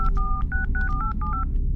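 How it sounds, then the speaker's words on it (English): Telephone keypad dialing tones, a quick run of about nine dual-pitch beeps in an uneven rhythm, as a woman dials her mother in a tense moment; clear and close over a low background hum, with no talking. "she snatched her phone and dialed her mother"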